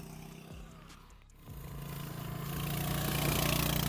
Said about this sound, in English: It's torquey, characterful, smooth, and it has an exhaust beat that you could listen to for hours on end.